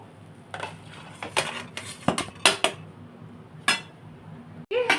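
Pots and metal utensils clatter and clink in a kitchen as boiled chicken stock is poured off, with several sharp, close knocks spread unevenly through the clip and no talk.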